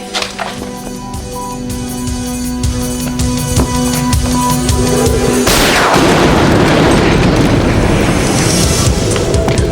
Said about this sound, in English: Ed, these are my own exploding shells